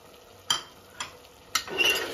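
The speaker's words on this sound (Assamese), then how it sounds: "এতিয়া এইখিনি ভালকৈ লৰাই দিব লাগিব" Chicken pulao with dry fruits being stirred in a pot, three distinct scraping strokes of a spoon against metal about a second apart, close and clear, with a faint sizzle between, no voices.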